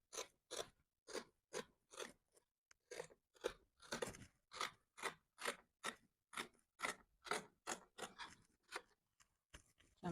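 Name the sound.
scissors cutting dress fabric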